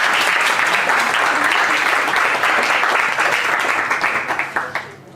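An audience at a student event breaks into loud, dense applause that holds steady, then thins into a few separate claps as it fades out at the end.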